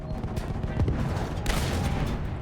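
Machine gun fire in the video game Battlefield 1, a dense rattle of rapid shots in a noisy battlefield mix with a louder burst midway, moderately loud and continuous.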